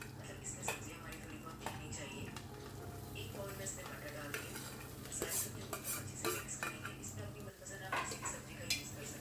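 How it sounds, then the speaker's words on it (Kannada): Chopped vegetables tumble into a pan and get stirred for a vegetable biryani, with steady scraping and clinking of a spoon against metal over a low frying hiss, close and continuous. "ಇದಕ್ಕೆ ಕಟ್ ಮಾಡಿರೋ ತರಕಾರಿಗಳನ್ನ ಹಾಕ್ಕೊಳ್ಳಿ"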